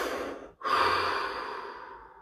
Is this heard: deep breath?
yes